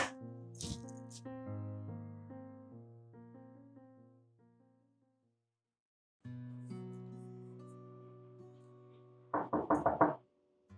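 Several quick, loud knocks on a door near the end, heard after a stretch of music with a silent gap in the middle.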